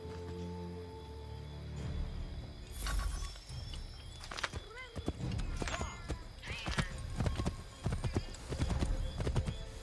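Horse hooves clip-clop at a gallop through an Assassin's Creed III game scene on horseback, steady rhythmic beats close by with a whinny and brief game voices over the hoofbeats.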